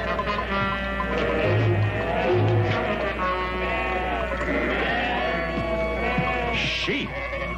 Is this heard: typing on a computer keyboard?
no